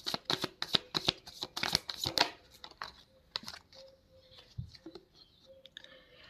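Tarot cards get shuffled up close in a quick run of crisp flicking riffles, followed by quieter shuffling and soft card handling in a hushed room.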